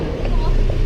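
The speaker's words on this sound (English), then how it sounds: "this is a little bit noisy because we're at the car park" Noisy car park behind a mall in Batangas City, Philippines: a steady low rumble of traffic and engines close by, continuous and fairly loud, with faint voices mixed in.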